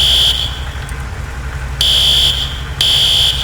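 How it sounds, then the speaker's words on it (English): A fire alarm set off inside a building in the video game EmergeNYC, sounding as a loud, piercing electronic tone in on-off bursts over a low steady hum. "But if I press E, you can see it sets off the alarm."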